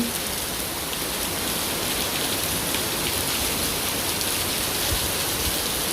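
Heavy rain pours steadily and loudly, a dense unbroken hiss of drops pounding a surface with no voices.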